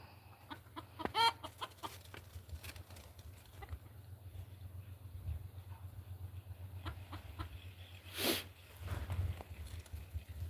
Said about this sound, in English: This little white rooster is definitely Whitey's son. They even sound alike